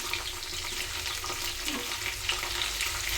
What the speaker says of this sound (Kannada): ಇನ್ನು ಫ್ರೈ ಮಾಡ್ಕೊಳ್ಳೋಣ